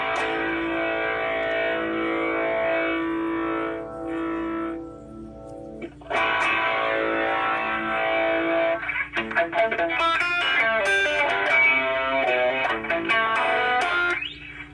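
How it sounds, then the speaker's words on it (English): Electric guitar played through a Phase 90 Plus phaser followed by a distortion pedal: sustained distorted chords with a sweeping phased shimmer, a brief drop near four seconds, then busier, choppier riffing and bends, loud and close, with no talking. "I haven't decided if I like it in front of a distortion box or after a distortion box, but here's a distortion box after it anyway"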